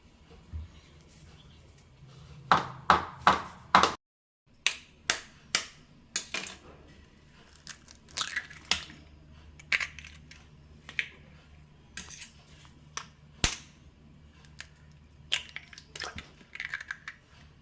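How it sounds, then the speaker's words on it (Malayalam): A string of sharp cracking taps as eggs are cracked into a bowl, about a dozen over the span, some quick doublets, close and fairly loud with short pauses between, no talking. "അങ്ങനെ 2 മുട്ടയൊക്കെ പൊട്ടിച്ചിട്ടിട്ടുണ്ട്."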